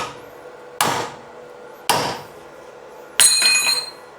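A welded metal joint is struck three times with a hammer, each a sharp, close impact; the last blow brings a bright metallic ring as the weld snaps.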